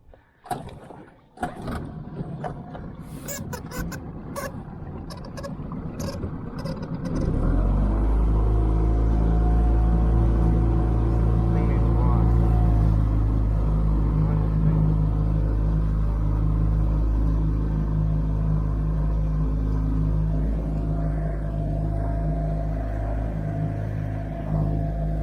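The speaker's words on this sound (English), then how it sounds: "Alright, so I think I got my motor figured out." Outboard motor on a jon boat, starting with a few clunks and rattles, then settling into a loud, steady low rumble and drone that runs on without a break, with no voices over it.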